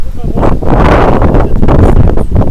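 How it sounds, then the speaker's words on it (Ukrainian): Strong, roaring wind at a reservoir near Korostovychi buffets the microphone in a steady loud rush, with gusty swells and no other clear sounds. "Вітер жорсткий налетів."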